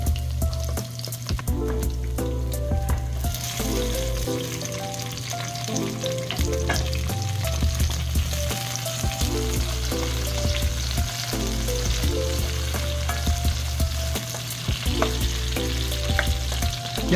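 Onions frying to golden brown in a pan for a pork spareribs dish, a steady close sizzle with occasional stirring scrapes and clinks throughout, with no talking.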